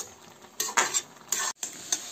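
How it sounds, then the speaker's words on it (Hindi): Spoon stirring sugar into gajar ka halwa, a carrot pudding, in a pan: repeated scraping and clinking strokes in uneven bursts, close and moderately loud, with no talking. "अब इसको हम घुमाएंगे ताकि जो ये चीनी है ये इसमें मिल सके।"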